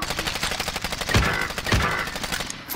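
Video game gunfire in loud bursts, rapid automatic shots with a couple of heavier blasts standing out, dense and continuous over a busy battle background.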